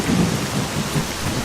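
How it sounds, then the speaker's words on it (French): Steady heavy rain pours down during a thunderstorm in the video game S.T.A.L.K.E.R., a dense continuous hiss with low rumbling swells of thunder. "j'entends rien avec cette pluie là, cette espèce d'orage à la con"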